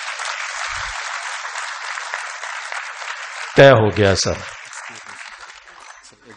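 An audience at a Punjab mushaira in Patiala claps steadily for a few seconds, then someone speaks briefly over fading applause.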